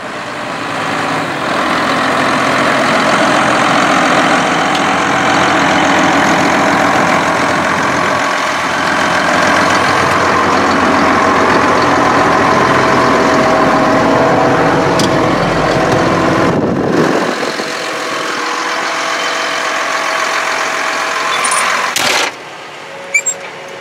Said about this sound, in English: The cab of the AGCO WHITE 6175 tractor, and it is running the John Deere 560M round baler.